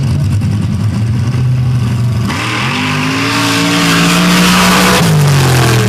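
Nitrous drag race car powered by an 828 cubic inch aluminum block Chevy engine at Sanford, roaring loud and close as it launches, its pitch climbing through a hard pass with tire squeal.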